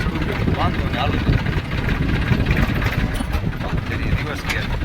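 A farm tractor runs in a Gujarati village with a steady, rumbling mid-pitched engine drone, loud and close, while people talk over it.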